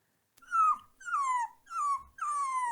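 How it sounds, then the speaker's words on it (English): A puppy cries in four drawn-out, high whimpers separated by short pauses, close and clear with nothing else heard. "The puppy continued to cry"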